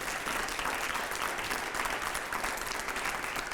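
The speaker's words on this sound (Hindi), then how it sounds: "जोरदार तालियां हो पहले अगले सवाल से पहले।" Loud, continuous applause from a crowd at a political gathering in Rajasthan, a dense steady wash of clapping that holds evenly for several seconds with no talk over it.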